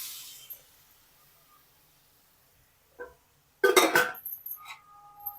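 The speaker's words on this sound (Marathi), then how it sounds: "ही जी शिजवलेली चवळी आहे ती याच्यामध्ये टाकून द्यायची।" Cooked cowpeas tipped into spiced masala in a cooking pan: a quiet room, a soft knock, then a short burst of clinking and scraping, followed by faint trailing clatter.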